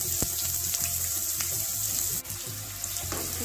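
Chopped onion sizzles in hot oil for a banana stem thovve, a steady close frying hiss with a few faint clinks and stirs throughout.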